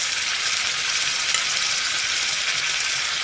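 Grated tomato sizzling in hot oil over reddened frying onions for a matki and cauliflower kurma, a steady loud bright hiss throughout with no pauses.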